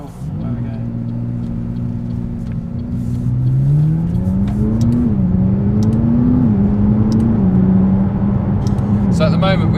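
A 2017 McLaren 570S accelerating on the road, heard from inside as the engine note climbs and steps through smooth gear changes with a rising, wavering drone, a voice talking over it throughout.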